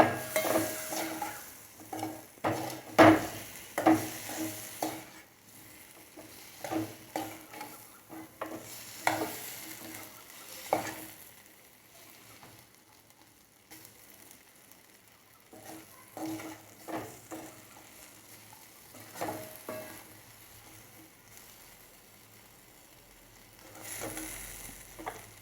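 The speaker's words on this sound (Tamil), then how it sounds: "சிம்மில் வச்சு நல்லா ஒரு கிளறுங்க" Masala potatoes are stirred in a pan over a low flame, with scattered scraping strokes of a spoon against the pan and a soft sizzle underneath, fairly quiet and close, no voices.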